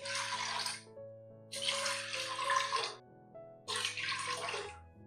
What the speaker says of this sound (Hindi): एक पाव दाल के लिए इसमें डालेंगे 3 कप पानी।